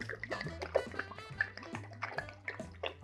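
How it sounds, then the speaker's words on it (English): Scotch whisky pours and trickles steadily into a bowl of punch, close and quiet, with soft gurgling and splashing throughout. "To this, we are gonna add 1 bottle of our scotch."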